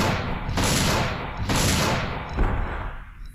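Rapid heavy gunfire from the Dino Crisis 2 video game on PlayStation, with loud repeated shots in quick bursts, dense and close, with no voices.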